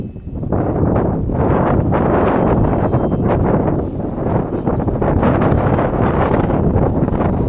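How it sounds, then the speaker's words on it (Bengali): Strong wind on a Yamuna riverbank in Vrindavan, on a cold day, buffets the microphone in a constant, loud rumbling roar with gusty surges throughout, no voices heard. "এত হাওয়া, দেখুন জ্যাকেট পরে আসছি, এত ঠান্ডার কারণে"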